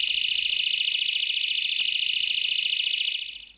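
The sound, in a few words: lock alarm siren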